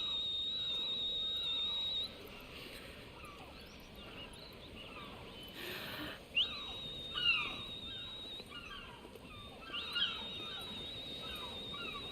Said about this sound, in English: She's whistling, man. You hear her?